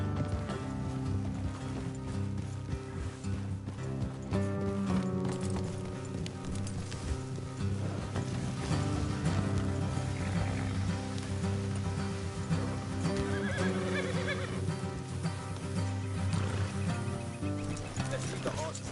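Horse hooves clip-clop steadily in the video game Red Dead Redemption 2, over a dense layer of game music and ambient sound, with an occasional whinny and a voice speaking at times.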